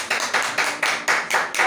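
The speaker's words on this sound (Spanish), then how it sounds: "¿Cuánto le dan un aplauso al Señor?" A church congregation claps together in a steady, even rhythm, about four sharp beats per second, loud and close, with no voices over it.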